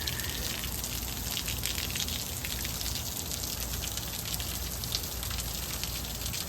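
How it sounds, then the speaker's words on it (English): Steady rain falls in the desert of Las Vegas, a continuous broadband hiss of drops on surfaces with no breaks, even and fairly close throughout, with no voices. "Desert rain."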